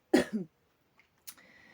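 A single close, sharp cough with a short second hack, followed by quiet and a faint click.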